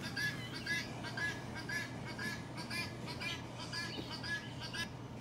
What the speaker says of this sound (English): The guinea fowl is a funny bird that looks like a turkey.